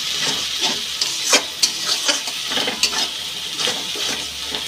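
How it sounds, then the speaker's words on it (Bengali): Green chili paste masala sautéing in a pan, a steady close sizzle with repeated scraping stirs and soft clinks of the spoon against the metal, no voices. "এটা ভালো করে কষিয়ে নিতে হবে।"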